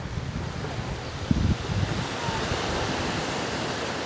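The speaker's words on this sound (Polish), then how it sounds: "Patrzę w wodę i te fale na brzegu" Ocean surf washing onto a shore in a green, tree-lined coastal setting, a steady broadband wash of waves under wind noise, with a brief louder surge midway and no talking.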